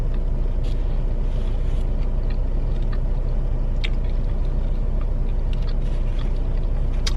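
A long-haul truck cab carries a loud, steady low engine rumble at highway speed, with faint rattles and clicks scattered over the constant drone.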